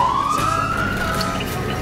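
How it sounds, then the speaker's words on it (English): An ambulance siren on an emergency call in Central Park blares loud and near as one rising, sustained wail over engine rumble and traffic noise, with no speech. "Ambulance on emergency call, clear the center lane, clear the center lane."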